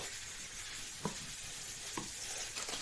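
Turmeric pork fried rice stir-fried in a hot pan: steady sizzling with a soft scrape of the spatula now and then, quiet and close, and no talking.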